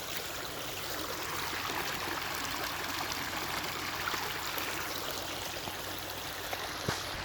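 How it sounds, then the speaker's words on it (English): Small garden waterfall splashes and trickles steadily, a constant close rush of falling water with faint gurgles. "Here, I'll show you my little waterfall."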